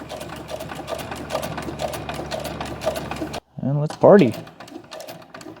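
A sewing machine stitches a leather weightlifting belt, running as a close, steady, rapid mechanical chatter for about three seconds before stopping, after which someone speaks briefly.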